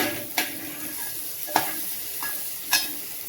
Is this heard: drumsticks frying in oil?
yes